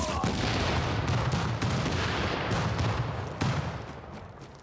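Dense, continuous rumble of explosions and gunfire in a video game, loud and close with repeated booming hits layered over a constant roar, dipping briefly before another blast near the end.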